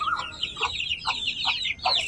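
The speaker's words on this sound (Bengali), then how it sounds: "তো এখানে একটা মুরগি দেখা যাইতেছে" A hen on a rooftop garden gives a run of short clucks among the high, busy peeping of her chicks close by.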